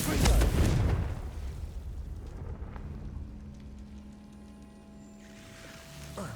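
A Confringo explosion spell goes off in a video game, a loud, close, deep boom at the start that rumbles and fades into a low tail, with speech present.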